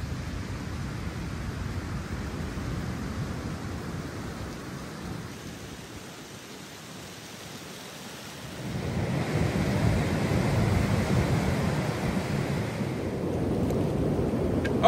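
Big waves break on a shore beneath rain-soaked cliffs, a loud rolling roar that eases in the middle then surges back in a heavy wash.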